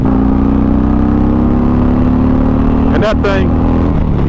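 A Stage 4 Harley-Davidson Street motorcycle in 4th gear pulls hard as the throttle is cracked open, a loud steady engine drone rising in pitch, with a sharp burst of rushing noise near the end.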